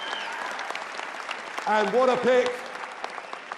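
A conference crowd at the Conservative Political Action Conference applauds steadily, and the clapping sits underneath a voice as he keeps speaking.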